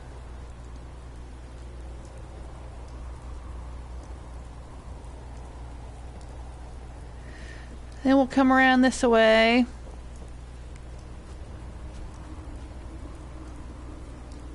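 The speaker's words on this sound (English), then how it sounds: "Sure wish it was not raining." Steady, even rain hisses across a settlement in Fallout 4 on PS4, continuing unbroken from start to finish, while someone speaks briefly partway through.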